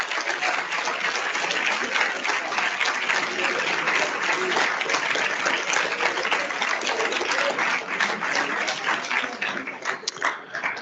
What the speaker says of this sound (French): Je pense déjà qu'on peut commencer par applaudir Monsieur le ministre pour sa conférence